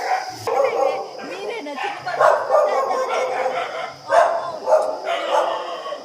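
Puppies at a dog shelter yap and bark in repeated short, high bursts close by, with some whimpering, while a person talks over them.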